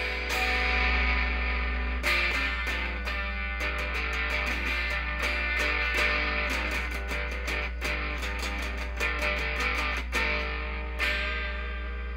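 A lo-fi effects pedal processes loud, distorted, echoing music with sharp chopped cuts in volume, a steady low hum underneath and repeated stabs and bursts throughout, with no talking.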